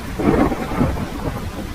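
Heavy rain pours steadily in a Hindi cartoon storm, with a deep thunder rumble rolling underneath. It is loud and continuous, with no voices.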